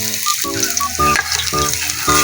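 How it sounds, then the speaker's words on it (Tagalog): Potatoes frying in hot oil in a pan make a loud, close sizzle, with a rhythmic scraping and tossing pattern repeating about every half second. "Mainit na ang ating kawali. Hoy, iuna na natin ng patatas. Ating pipiru-pirituhin muna ng kaunti."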